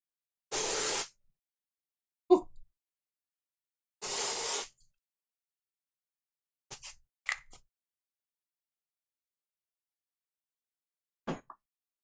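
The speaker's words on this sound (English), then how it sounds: "Might hear a couple of spray sounds." Antiperspirant spray hisses out in two short, loud bursts about three seconds apart, separated by quiet, with small clicks and handling noises between and after.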